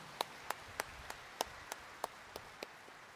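Sparse, faint claps from a church congregation honouring the Jesus Nazareno at Quiapo Church during a morning Mass, heard as about ten isolated sharp hand claps spread evenly across a few seconds, distant and thin rather than a full ovation.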